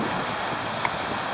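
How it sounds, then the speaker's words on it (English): A big gust of wind buffets the microphone in a steady, full roar during an outdoor campfire canteen cooking session, close and loud for about a second and a half. "Got a big gust of wind"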